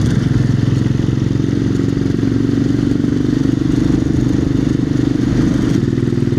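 A Royal Enfield Himalayan motorcycle rides along a single-track moorland road, its engine thrumming loudly and steadily throughout with a constant rumble and wind noise, no voices.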